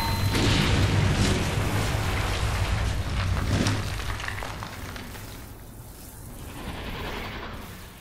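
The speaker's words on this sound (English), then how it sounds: "Sounds like a cannon." Cannon fire in the video game Myst IV: Revelations, heard as a heavy, rumbling boom that rolls on and fades, then a softer second swell near the end. It is loud and diffuse, with no talking.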